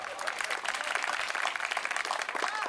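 An audience at a Hindi comedy poetry gathering claps together in a steady, dense burst of applause.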